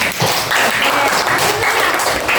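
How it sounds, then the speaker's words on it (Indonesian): Schoolchildren in a classroom giving a short round of applause for a classmate, dense quick handclaps filling the room for a couple of seconds. "Tepuk tangan dulu Nisa."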